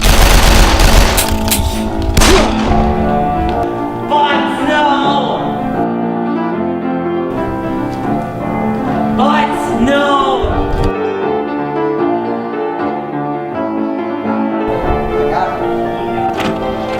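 Gunshots boom loudly a few times near the start over a musical score, then single thumping shots follow more sparsely.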